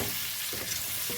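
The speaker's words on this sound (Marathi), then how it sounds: "आता हे मसाला असा तेलात परतून घ्यायला" Ground masala fries in hot oil for a simple home vegetable dish, a close, steady sizzle with a brief stirring scrape and no voices.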